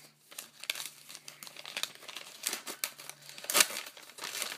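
Paper crinkles and rustles as a note wrapped around trading cards is peeled open, with close, continuous crumpling and a few sharper tearing snaps.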